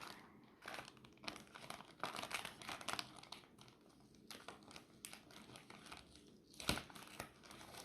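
A vlogmas advent gift package is unwrapped, with crinkling and tearing of paper in irregular bursts, close and fairly quiet, with no talking.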